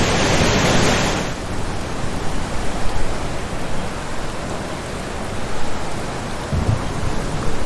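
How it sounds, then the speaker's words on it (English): Heavy rainstorm with thunder: a loud, steady roar of pouring rain throughout, with a rumbling thunder burst swelling at the start and again near the end. "Storms don't only bring lightning. In many cases, it's the rain that does the damage."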